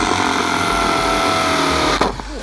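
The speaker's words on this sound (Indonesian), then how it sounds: "Wow, bor. Waktunya 3 menit." A drill grinds steadily and loudly into a metal safe during a safe-cracking challenge, a continuous harsh whine that abruptly shifts and tapers near the end.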